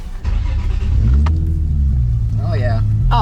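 A Nissan 350Z with upgraded brakes cruising at golden hour, its engine a steady low rumble that rises slightly as it accelerates, heard from inside the car under a voice.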